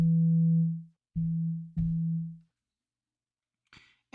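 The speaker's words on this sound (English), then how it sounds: "this is just cranking on a normal sine wave" A synthesizer plays a plain sine wave with no filter, sub or noise, shaped by an ADSR envelope: three clean sustained tones, each decaying smoothly, the first long and the next two shorter, followed by brief faint clicks.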